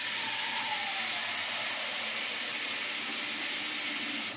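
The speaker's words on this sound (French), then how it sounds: "On va remplir d'eau." Tap water pours into a small saucepan in a home kitchen, a steady, close, broadband rushing hiss that runs unbroken and alone before stopping abruptly.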